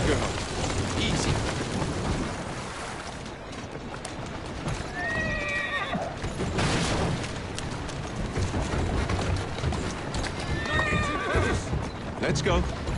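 A horse in Assassin's Creed Syndicate gives two clear whinnies a few seconds apart over continuous clip-clopping hooves and game ambience, with a voice talking in between.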